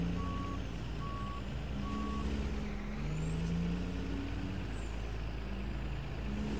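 A truck maneuvers in the farming game Big Bear Ranch, its engine droning steadily with a rhythmic reversing beeper and a hiss of air brakes, loud and continuous with no talking.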